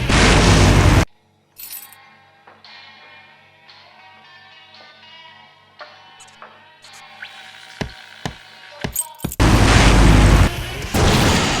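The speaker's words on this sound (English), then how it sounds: "Now that's an explosion, ladies and gentlemen." An explosion in the game Full Throttle Remastered opens with a loud roaring blast, falls to quieter clinking and tonal game sounds with sharp pops, then ends in another sustained booming rumble.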